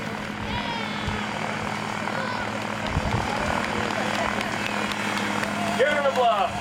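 A motorised ultralight aircraft on a whooping crane migration fly-over passes at a public event, a steady droning engine buzz with some rotor-like modulation that stays fairly loud throughout, with crowd chatter and voices around it.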